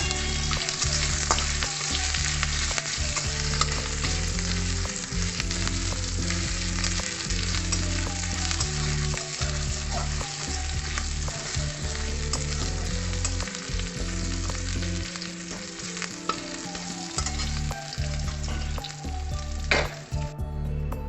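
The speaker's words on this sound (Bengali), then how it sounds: "একটু কালো জিরে আর শুকনো লঙ্কা তেজপাতা ফোড়ন দিয়ে নিলাম আর পেঁয়াজ কুচনো দিয়ে দেবো" Nigella seeds, dry chilli and bay leaf tempering in hot oil, then chopped onion frying for a fish curry, a loud continuous sizzle with recurring stirring scrapes, close and steady, no talk.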